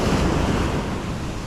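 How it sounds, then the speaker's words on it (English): Ocean surf breaks on a fishing beach as a loud, continuous wash of waves, with heavy wind buffeting the microphone throughout. "Definitely past where waves are breaking today."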